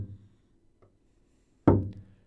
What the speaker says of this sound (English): set up a ghost note, because again, one finger is going to be used to play it, and the other is used to mute it